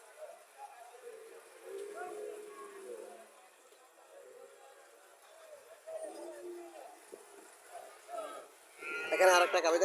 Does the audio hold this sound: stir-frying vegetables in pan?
no